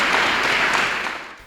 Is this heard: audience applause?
yes